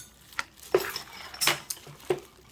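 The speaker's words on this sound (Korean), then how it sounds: "얼음도 많이 넣어서 시원하게" Ice cubes clinking against a bowl of cold bibim noodles with snails, a few separate bright chinks and taps spaced irregularly, close and clear with no talk.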